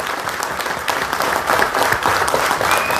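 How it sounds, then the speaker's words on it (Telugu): Sustained, dense audience applause fills a hall at a stage tribute for the folk poet Prajakavi Jayaraj, a steady wash of many hands clapping hard and loud throughout, with no voices over it. "లేచి నిలబడి చప్పట్లు కొట్టాలి 2 నిమిషాలు"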